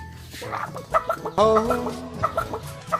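Several hens cluck and squawk in quick, agitated bursts as they fight, close by, with one longer drawn-out call in the middle amid other fowl noise.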